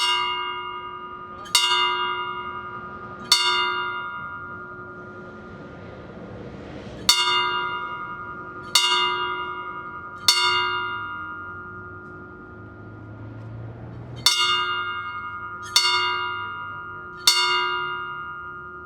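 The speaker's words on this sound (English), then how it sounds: "Our honor guard will now sound the ringing of the bells, 3 groups of 3 bells each." Ceremonial bell strikes rung by an honor guard at a September 11 memorial ceremony ring out clearly, each sustained and slowly decaying, spaced in three groups of three with pauses between the groups.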